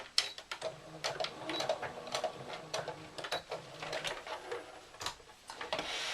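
A domestic sewing machine back-tacks along corded seams of a cupcake hand warmer, a close, fast mechanical whir of stitching in short bursts with clicks and pauses between runs.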